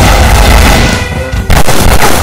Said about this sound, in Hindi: अरे गोलियां चला रहे हैं कि फेंक रहे हैं?